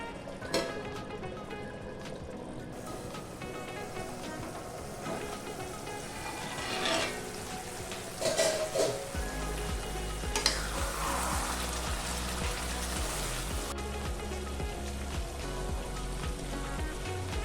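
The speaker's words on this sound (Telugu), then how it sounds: "ఇప్పుడు మూత పెట్టేసి మధ్య మధ్యలో కలుపుకుంటూ నీళ్ళన్నీ ఇంకిపోయేంత వరకు చికెన్ని ఉడికించాలి" Chicken handi cooks in a covered pot until the water evaporates, with a steady close sizzling and bubbling throughout, a few clinks and stirring noises, and a deeper rumble joining partway.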